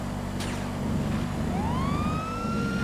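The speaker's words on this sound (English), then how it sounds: "I'm gonna turn on the sirens." A police siren in GTA FiveM roleplay wails nearby over a low engine rumble, its tone sweeping up and holding, with a brief chirp at the start.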